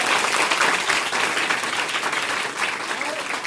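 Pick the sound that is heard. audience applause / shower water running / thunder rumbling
audience applause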